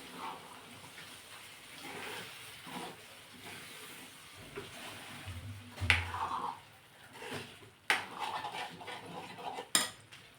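Mashed cooked vegetables being stirred into masala in a pot for pav bhaji, a spoon scraping and clanking against the metal with soft hissing, growing louder with sharp knocks toward the end.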